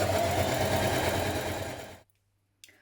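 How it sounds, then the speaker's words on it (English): A sewing machine runs a steady straight stitch of ease stitching along a hoodie shoulder, a continuous close mechanical whir for about two seconds before stopping abruptly, followed by a brief faint tap. "Stitch a line of ease stitching on each shoulder between the triangles with a straight stitch"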